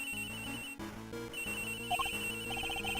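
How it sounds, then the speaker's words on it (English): Cell phone ringtones trilling in the Ace Attorney Investigations 2 video game, a repeating electronic ring pattern over steady game music, loud and close throughout. "That sound. That's her cell phone."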